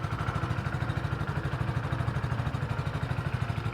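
A Hero HF Deluxe motorcycle engine idles just after starting, a fast, even, slightly rough putter heard close and alone.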